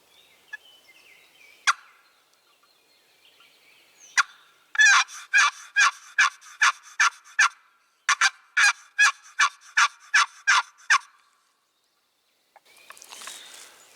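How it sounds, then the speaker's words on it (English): Raspy turkey yelps worked on a wooden box call during a spring turkey hunt: two short bursts of rapid, rhythmic, scratchy notes in steady series, fairly loud and close, with a few isolated clicks before and faint rustling after. "we're gonna do a couple of real raspy yelps on the box call"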